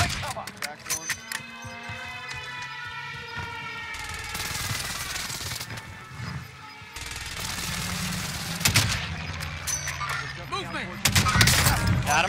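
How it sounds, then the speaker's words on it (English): Precision airstrike explosions and gunfire in the video game Call of Duty Warzone, with dense rattling bursts of shots and booming blasts that come in waves under excited voices calling out. "Enemy precision airstrike, take cover!"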